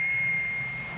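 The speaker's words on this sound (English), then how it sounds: "A-37s taxied to the end of the runway and awaited takeoff instructions." An A-37 jet aircraft taxis on a runway, its engine giving a steady, loud whine with a constant high tone over a broad roar, heard up close for a moment.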